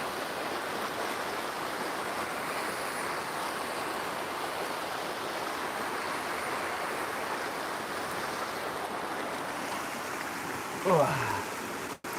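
Flowing water in a video game, a steady broad rushing wash that stays close and fairly loud throughout, with a brief voice-like sound near the end.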